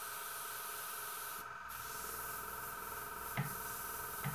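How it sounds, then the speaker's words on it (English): A cheap airbrush sprays thinned acrylic hobby paint, giving a steady close hiss with a short pause and a couple of brief bursts. "I'm spraying with the very cheap airbrush, which means the precision is lower"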